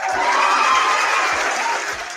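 A short burst of crowd applause plays during a live stream, steady and fairly loud, with faint low thumps beating regularly beneath the clapping before it tapers at the end.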